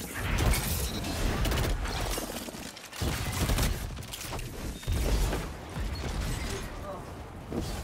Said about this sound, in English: we have some crazy damage going on with the pulse rifle